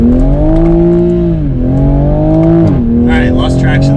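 Toyota A90 Supra with a manual transmission in sport mode accelerating hard from first gear, a loud close engine drone that rises in pitch, dips briefly at each of two gear shifts, then climbs again, with a voice speaking near the end.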